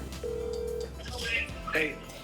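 A telephone ringing on a call to a friend, steady ring tones followed by a voice speaking over the line.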